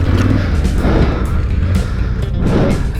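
Adventure motorcycle pulling away in first gear on a trail, a loud close engine roar with wind-buffeted rumble that rises and falls.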